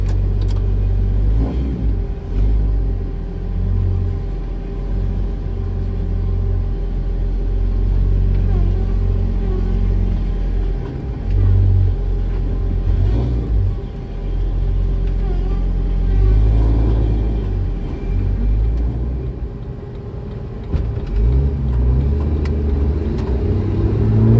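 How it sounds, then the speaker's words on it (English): A Jeep TJ with a 4.0L engine drives on a test drive after an oxygen sensor replacement, its engine rumbling low and steady from inside the cabin, with a few swells as it accelerates. "So we're ready to go for a test drive."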